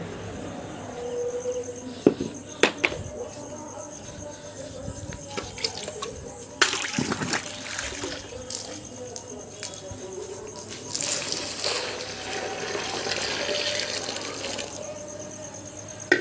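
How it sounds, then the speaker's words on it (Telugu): Water pours and splashes in uneven bursts over soaking chickpea husk, loudest in the middle and later stretches, over a faint steady background hum. "వాటర్ తడిచేటట్టు పోస్తే సరిపోతుంది"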